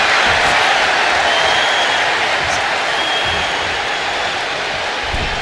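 A loud, dense wrestling arena crowd in the WWE 2K25 video game roars and cheers continuously during a SmackDown match, a steady wall of noise throughout.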